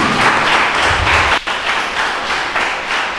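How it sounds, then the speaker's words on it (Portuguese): Loud, dense applause from a church congregation praising Jesus during a sermon, sustained throughout with a brief dip midway before the clapping surges on. "Dê um aplauso bem forte ao Senhor Jesus."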